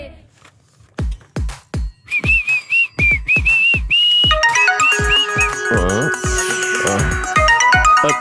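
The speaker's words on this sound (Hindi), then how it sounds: "ये सुब्बा राव ना फोन करके मुझे परेशान कर रहा है।" A phone ringtone plays a repeating electronic melody over sharp, rhythmic thumping beats, growing busier and louder as it continues.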